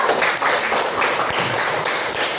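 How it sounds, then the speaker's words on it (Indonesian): A classroom gives group 3 a round of applause, with a crowd of hands clapping in a dense, fairly loud patter that keeps going through the whole short stretch, without talk. "Oke, beri aplaus untuk kelompok 3"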